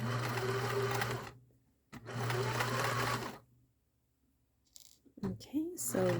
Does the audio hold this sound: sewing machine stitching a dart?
yes